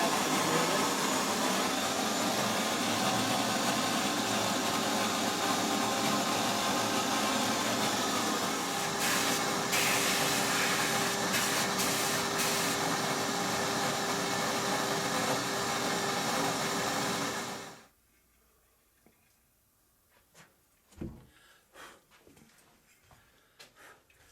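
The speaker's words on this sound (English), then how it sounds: "This is North Coast Engineering sandblasting unit." North Coast Engineering sandblasting unit blasting a brass railroad model in a vacuum sand chamber, a loud steady hiss and rush that runs continuously, then cuts off abruptly, leaving faint clicks and handling noises.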